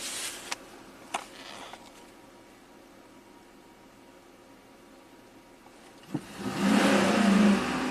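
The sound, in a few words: GM Chevy V8 engine starting and idling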